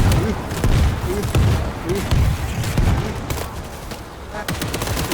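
Steady automatic gunfire in the zombie shooter World War Z, loud sustained bursts with sharp repeated shots, mixed with game noise and speech running over the top.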